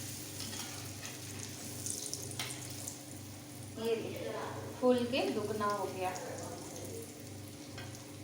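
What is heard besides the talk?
moong dal vada frying in oil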